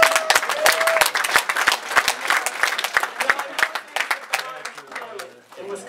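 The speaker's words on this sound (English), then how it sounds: "You guys should give yourself a big applause for that." Audience applause at a Madison, Wisconsin rally, dense clapping from a crowd filling the room, loud at first and thinning toward the end, with some voices mixed in.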